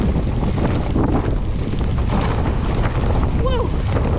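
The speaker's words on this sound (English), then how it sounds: "Oh my gosh, it's so windy." Strong wind buffeting the microphone on a ski hill at Georgian Peaks, Ontario, a loud continuous low roar over the whole stretch, with a brief faint whistling tone near the end.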